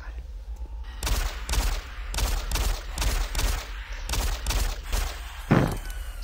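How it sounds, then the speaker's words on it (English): Rapid pistol shots ring out in Doom 3, about ten sharp reports in an irregular quick rhythm over a low rumbling game ambience, followed by a brief creature growl. "the pistol is quite useful in situations like this"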